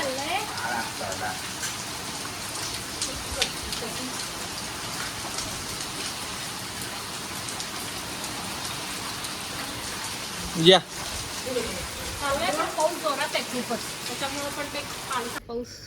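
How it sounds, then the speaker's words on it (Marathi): Steady rain falls throughout, a dense hiss of drops with a brief louder knock near the end and faint voices in the background. "पाऊस"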